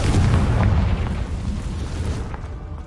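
A Confringo blasting spell from a Harry Potter video game goes off in one deep, heavy boom that fills the space and then rumbles away over a few seconds.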